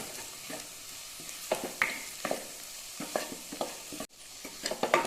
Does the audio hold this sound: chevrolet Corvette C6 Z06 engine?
no